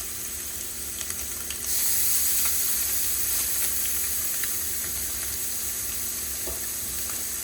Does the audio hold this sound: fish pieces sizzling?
yes